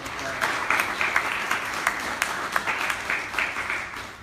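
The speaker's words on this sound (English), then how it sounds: "So if we could please give our MC a huge round of applause." A forum audience at an Indigenous alliance social justice gathering gives the MC a sustained round of applause, full and steady with some sharper individual claps, tapering at the end.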